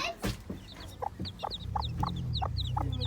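A mother hen gives soft, rhythmic clucks while tucking her chicks underneath her, with faint high peeps from the chicks and a low rustle close by.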